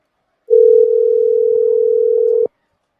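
A steady telephone dial tone holds for about two seconds, loud and alone, while a call is placed back.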